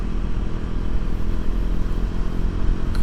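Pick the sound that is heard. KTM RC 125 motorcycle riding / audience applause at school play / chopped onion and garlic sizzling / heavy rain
KTM RC 125 motorcycle riding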